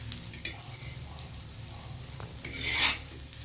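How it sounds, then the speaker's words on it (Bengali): An oats-stuffed paratha fries in a little oil on a pan, giving a low steady sizzle with small scrapes and a louder hissing surge near the end, close by and without talking. "এই সামান্য একটু তেল লাগাবো আর একটু ভেজে নেব আমি।"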